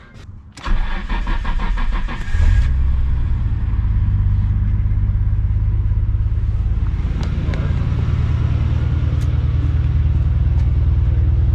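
A Nismo-equipped car's engine cranks briefly, then catches and settles into a steady, loud idle rumble after a fuel pump install, with a few small clicks over the running engine.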